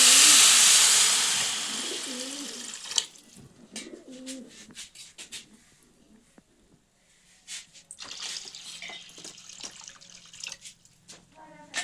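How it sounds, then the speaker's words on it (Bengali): Water poured into a pot of rice for paneer pulao, heard as a loud steady rushing splash at the start that trails off into softer drips and clinks of the pot, with a faint voice in the background. "তো আমি এখানে যতটা চাল নিয়েছিলাম তার ডবল জল দিয়ে দিচ্ছি।"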